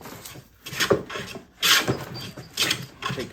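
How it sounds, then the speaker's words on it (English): Hand plane shearing thick shavings while edge jointing a board, a few rough scraping strokes in uneven succession, close and moderately loud. "taking some massive shavings here."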